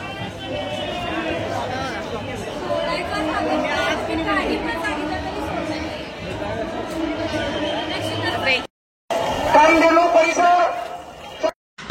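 Dense crowd chatter fills the air at the Jotiba temple festival during the Chaitra yatra in Kolhapur, a steady murmur of many voices with footsteps, briefly cutting out near the end before resuming loudly.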